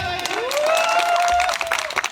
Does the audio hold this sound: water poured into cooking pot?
no